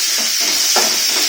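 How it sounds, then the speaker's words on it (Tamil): Chopped onion and tomato sauté in a pan with a loud, steady hiss and soft scraping stirs across a brief stretch. "வதங்கின பிறகு ஒரு தக்காளி இதையும் நல்லா வதக்கி விட்டுக்கோங்க."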